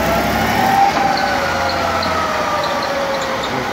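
A Ford AOD automatic transmission with a constant pressure valve body runs in reverse on a dyno, giving a loud, steady mechanical drone with a whining tone close by.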